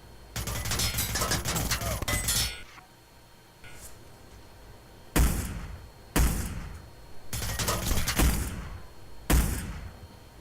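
Sniper rifle fire in the Hitman Blood Money game: a burst of rapid sharp reports, then several single loud cracks spaced a second or two apart, each with a short decaying echo, and no talking.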